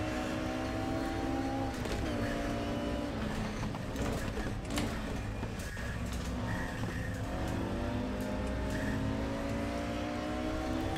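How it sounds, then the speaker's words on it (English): A race car in the RaceRoom racing game spins its tires on the shift into second gear. A steady, droning engine and tire whine runs throughout, with rising pitch sweeps and a few brief scrubbing bursts. "Spun the tires going into second gear."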